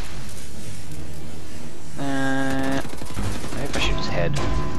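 Loud rifle fire in the PS4 shooter Wolfenstein: The New Order, with bursts of shots mixed into dense, continuous game audio that includes a brief tonal effect.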